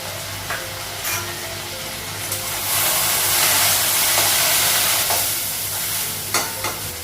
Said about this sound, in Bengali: ঢেঁড়স ভাজাটা হয়ে গেছে